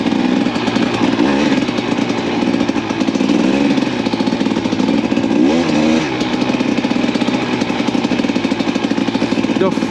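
A KTM hard enduro motorcycle on homemade studded wheels rides slowly through slippery snow, its engine popping and droning steadily up close with small throttle swells throughout.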